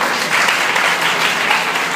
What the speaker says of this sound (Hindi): जरा तालियों चाहिए यीशु मसीह के लिए।